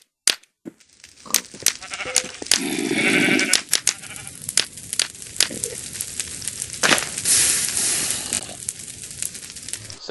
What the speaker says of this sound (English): Flint and steel also makes noises now.